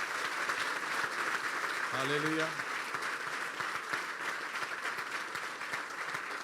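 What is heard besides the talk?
applause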